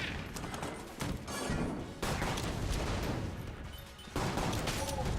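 Helix bullet gunfire in the game Enter the Gungeon, a busy clatter of rapid shots and impacts in uneven bursts, moderately loud, with a brief lull near the end before firing resumes.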